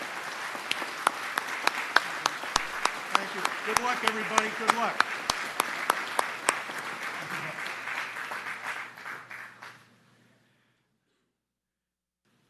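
Steady applause from a commencement crowd at Gettysburg College, with a few sharp individual claps standing out, while a voice speaks over it before the clapping stops abruptly and leaves silence.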